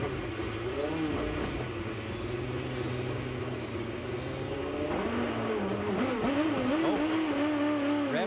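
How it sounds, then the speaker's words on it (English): An IndyCar engine at a pit stop during the 2005 race at Homestead revs up loudly and holds steady, then drops and wavers as the car stalls, all recorded onboard with a constant dense roar. "Revs come up, and now they stall it."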